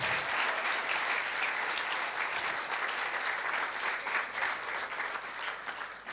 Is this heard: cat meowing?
no